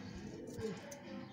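Pigeon cooing from a sports pigeon, with soft low coos heard up close over a faint background hum.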